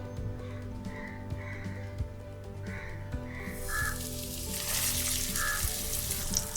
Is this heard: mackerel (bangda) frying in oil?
yes